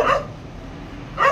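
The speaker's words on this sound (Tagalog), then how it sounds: "Tahol." A dog barks twice, short sharp barks about a second apart, fairly close with quiet between them.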